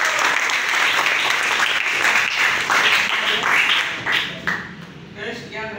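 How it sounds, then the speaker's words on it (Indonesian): Audience applause for Mas Fadil at a sixth-grade Indonesian history class session, a burst of steady clapping that gradually thins into scattered claps and fades out. "Berikan aplaus yang meriah Mas Fadil."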